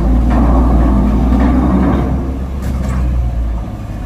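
Heavily loaded truck driving up onto a ferry at Merak port, a loud low engine rumble straining under load close by, easing slightly toward the end with some clanking.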